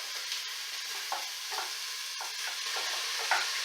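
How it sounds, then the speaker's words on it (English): A light drizzle of olive oil sizzles in an already smoking hot pan, a steady close hiss broken by soft clicks and stirring scrapes, with no talking. "Chili veg, olive oil. Just a little drizzle. Already smoking. Immediate sizzle."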